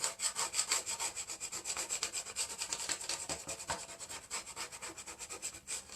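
A hand rubs back and forth over a wooden dog porch sign in quick, steady scraping strokes, close and fairly soft, with no talking.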